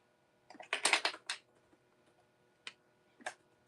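Typing on a computer keyboard, a cluster of sharp, close key clicks followed by two isolated taps after short pauses, in a quiet room.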